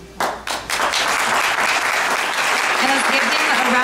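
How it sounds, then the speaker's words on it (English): A school audience applauds its teachers and educators at a Teacher Appreciation Day event. The clapping starts sharply, then swells into dense, sustained applause filling the hall, with some voices and cheering mixed in. "And let's give them a round of applause to show our gratitude."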